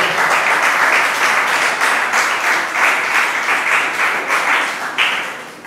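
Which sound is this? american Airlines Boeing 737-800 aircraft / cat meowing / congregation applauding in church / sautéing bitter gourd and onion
congregation applauding in church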